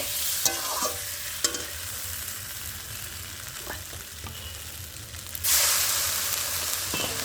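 Curry masala is sautéed in a pan, with a steady sizzle and a few sharp stirring knocks, then a louder surge of hissing frying about two-thirds of the way through.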